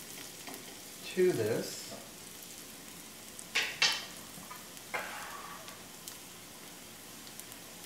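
Onions sauté in a pan, giving a soft, steady frying sizzle broken by a few louder scraping stirs. A voice speaks briefly over the cooking.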